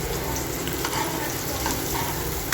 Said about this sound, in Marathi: तेल घेऊन झालं की त्याच्यात ते कापलेले कांदे ते टाकून द्यायचे.